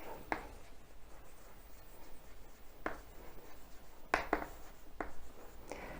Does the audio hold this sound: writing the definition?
yes